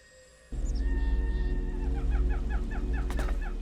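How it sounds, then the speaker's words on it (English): Purple plague chickens in the game ELEX II cluck in a quick repeating series of short calls over a steady droning game soundscape, fairly close and moderately loud. "Alright, don't smack the purple chickens."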